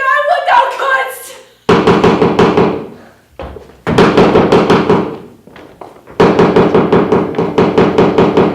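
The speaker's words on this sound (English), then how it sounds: "Wake, Duncan, with thy knocking, I would thou couldst!" Heavy knocking at a door in a staged performance of Shakespeare's Macbeth comes in three loud bursts of rapid pounding, separated by short pauses, after a brief voice at the start.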